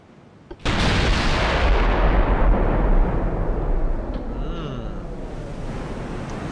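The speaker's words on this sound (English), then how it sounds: "This is our battleship firing its guns in anger." A battleship in a naval video game, steaming at 31 knots, fires its main guns in one heavy, booming salvo that swells into a long rumbling roar, then fades into a washing, surf-like tail.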